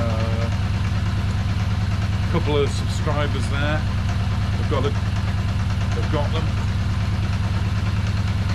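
A Kawasaki Z550 motorcycle engine idles with a steady, rapid mechanical clatter at tick over, with timing chain slap, continuous and close while someone talks over it.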